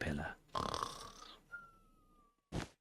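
A man imitating snoring with his voice, a couple of nasal, rasping breaths followed by a thin whistling tone and a final short snort, close and fairly quiet.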